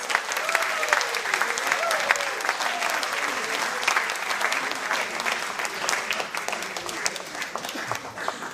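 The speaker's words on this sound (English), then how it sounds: "Ladies and gentlemen, give them a round of applause." An audience at a Torah dedication celebration breaks into a loud, sustained round of applause that fills the hall for several seconds, with some crowd voices mixed in.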